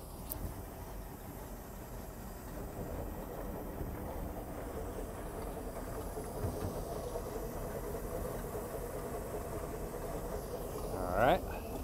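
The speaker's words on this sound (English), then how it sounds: "That's her at an idle. I give it forward gear." An inboard engine on a 1978 Skipjack 20 boat idles with a steady, broad rumble and hiss throughout, ending in a brief clunk as it is shifted into forward gear.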